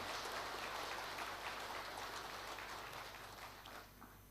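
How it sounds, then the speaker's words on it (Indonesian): An audience at a formal Indonesian government leadership course claps for President Prabowo Subianto, dense applause that is faint and distant before fading slightly at the end. "Tepuk tangan yang meriah untuk beliau."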